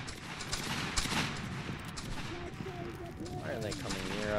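Musket volley fire in a Roblox Waterloo battle game, a burst of overlapping gunshots crackling together near the start, with voices and game sounds continuing underneath.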